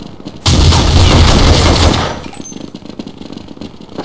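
A burst of gunfire in the video game Counter-Strike: loud, rapid automatic shots blasting for about a second and a half, then cutting off into a fading echo and quieter background game noise.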